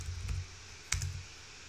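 Two brief, soft computer keyboard key clicks about half a second apart, quiet and close, with no talking.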